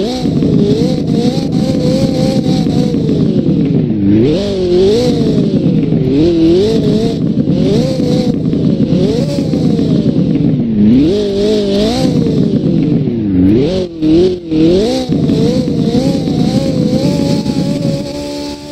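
A car in the Roblox game Southwest Florida starts and revs repeatedly, its engine note rising and falling in sweeping pulls, loud and close, with no talking.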